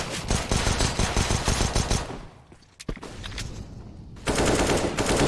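Rapid pistol gunfire in a Counter-Strike match on the Inferno map, loud bursts of close shots, then a brief lull with scattered shots before heavy firing resumes.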